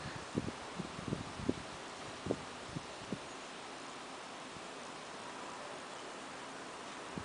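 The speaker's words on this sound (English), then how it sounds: "cold wind blow past my face, this camera" Cold wind blows past a camera at a window in Nantes, France, a faint steady hiss with a few soft buffeting bumps near the start and distant road traffic below.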